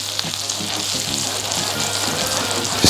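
Bread frying in butter in a pan for a croque madame sizzles steadily and close up, a bright continuous crackle with a few soft stirring scrapes and no talk.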